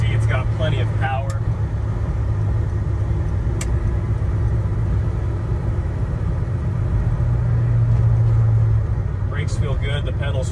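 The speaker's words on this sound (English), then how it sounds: "Vortec powered C10 out here for a quick drive this morning." A Vortec-powered 1967 Chevy C10 restomod truck cruising on a morning road, its engine a steady low rumble from inside the cab with road noise, and brief bits of someone talking near the start and end.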